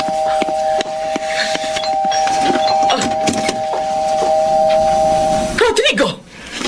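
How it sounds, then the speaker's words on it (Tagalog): A doorbell with a steady electronic tone rings continuously for several seconds and then stops abruptly. Clattering and other household noises surround it, and a voice is heard near the end. "Gusto pa yatang sirain ang doorbell ko."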